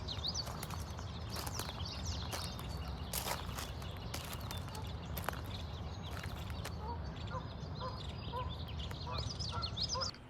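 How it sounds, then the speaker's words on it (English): Mallard ducks at the Chino Creek Wetlands in Chino, California quack intermittently at a moderate distance over steady outdoor ambience, with faint footsteps and other small noises mixed in. "These are mallard ducks"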